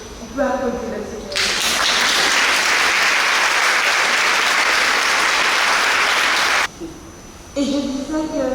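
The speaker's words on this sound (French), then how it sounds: "On peut applaudir le Seigneur." Congregation at a church service breaks into loud, sustained applause for about five seconds, with speech before and after it.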